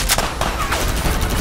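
A quick burst of rapid gunfire rings out in a GTA 5 shootout, several sharp cracks fired close together over a second and a half.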